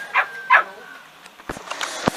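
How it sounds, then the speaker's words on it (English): A dog barks twice in quick, close, sharp yelps, followed by faint shuffling and light knocks. "this dog is so annoying, forever in the day barking"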